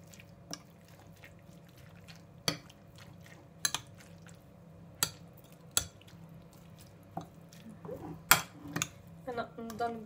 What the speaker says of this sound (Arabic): بعد ما خلطت اللحم المفروم ديالي مليح مع هذاك البيض والفرماج